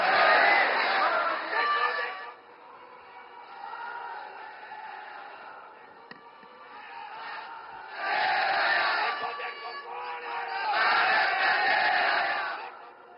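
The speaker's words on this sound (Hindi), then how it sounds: "आइए जोरदार तालियों के साथ आमंत्रित करते हैं अपने बहुमूल्य मार्गदर्शन के लिए।" A large crowd at a Somnath temple event welcoming Prime Minister Narendra Modi bursts into chanting cheers in repeated loud surges, fading between waves, with rhythmic shouted calls rather than clear clapping.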